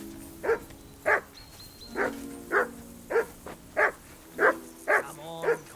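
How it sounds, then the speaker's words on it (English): A dog in Kingdom Come Deliverance 2 barks nine times in an even rhythm, loud and close, with faint ambient sound between the barks. "Henry! Call off that damn dog before he wolfs down the last of our mates."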